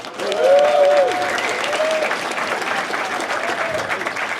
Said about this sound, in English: We should give Michael a round of applause, guys